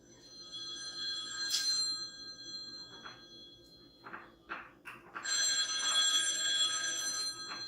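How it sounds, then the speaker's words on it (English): A telephone rings in a kitchen in short, bright bursts with gaps between them, fairly faint and set apart from the room. "Excuse me, phone there."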